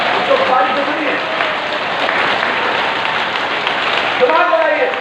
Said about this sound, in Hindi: ताली यूं बजती है, ये दो बार बजती है